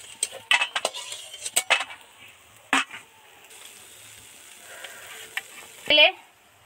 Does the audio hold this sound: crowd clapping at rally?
no